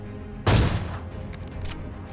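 Gunfire in the video game PUBG, a single sharp loud shot with a ringing tail and a few faint distant pops afterward, no voices over it.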